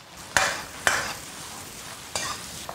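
Pork belly and vegetables stir-fried in a wok, with three sharp scraping stir strokes over a steady sizzle of hot oil, close and fairly loud, no voices.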